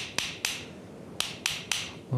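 A hammer strikes silver in fine silver craftwork, five sharp metallic taps in two quick groups, close and fairly quiet with no voices.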